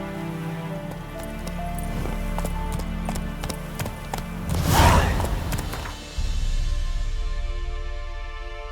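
Roach, a horse in The Witcher 3, gallops in a steady run of hoof clip-clops with a louder thudding burst midway, then keeps pounding along under a continuous rumble.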